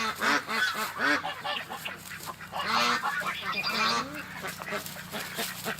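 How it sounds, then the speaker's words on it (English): A distressed pet duck named Disco quacks repeatedly and insistently, loud and close, in a steady run of honking calls with a person speaking softly over parts of it. "I've never heard her quack like this before, guys."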